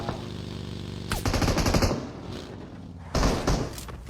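Bursts of automatic gunfire from enemy bots in a first-person shooter match, one long loud volley followed by a shorter burst after a pause, with no talk over it.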